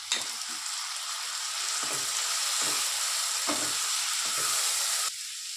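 Chopped tomato sizzles in a pan for peas keema, a loud continuous fry hiss broken by several spatula scrapes and stirs, cutting off abruptly near the end.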